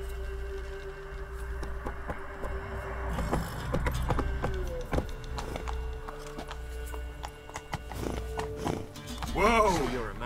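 A horse in The Witcher 3 game gallops with rhythmic clip-clopping hooves under game music and a voice, with a short whinny near the end.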